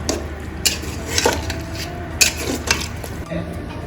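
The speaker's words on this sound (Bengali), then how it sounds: "হাঁড়িটা আবার বসে গেল চুলাতে, আর বাবা ভালো করে নাড়ি সব মিক্স করে দিচ্ছে" A spiced prawn curry being stirred in a pot on the stove, with soft scraping and occasional sharp clinks of the utensil against the pot over a low background hum.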